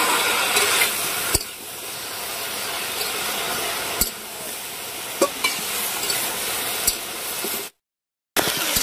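Eggplant sizzles and fries steadily in a pan after ginger, with sharp clicks of stirring scattered across the hiss and a brief cut to silence near the end.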